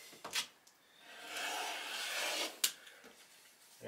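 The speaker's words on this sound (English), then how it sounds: "Take my also handy dandy rotary cutter and slice it up." A rotary cutter rolling through swim trunk fabric on a cutting mat: a soft, faint scraping swell lasting a couple of seconds, bracketed by light taps and handling noises.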